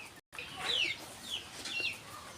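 Chickens and chicks on a small cattle farm after afternoon rain make soft, intermittent clucks and short calls, fairly quiet against light background noise.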